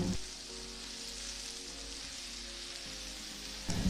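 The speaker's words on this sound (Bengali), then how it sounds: "আবারও টমেটো আর পেঁয়াজ নাড়িয়ে চাড়িয়ে ভেজে নেব" Tomato and onion frying in a pan for a chicken curry give a loud, steady sizzle that runs unbroken from start to finish, with no voices.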